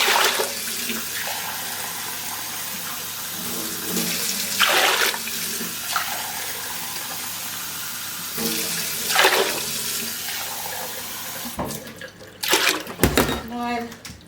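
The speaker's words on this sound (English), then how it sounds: "I'm going to put 9 cups of water." Water pours from a tap into a cooking pot for pea and ham soup, a steady rushing stream that surges in bursts with brief pauses, then ends with some clattering handling near the close.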